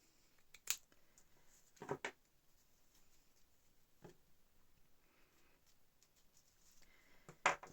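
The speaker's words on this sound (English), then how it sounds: "I'm just going to snip it down here." Scissors make a few quiet, scattered snips through paper during a paper-craft envelope folio project, with soft handling rustles between the cuts in an otherwise hushed room.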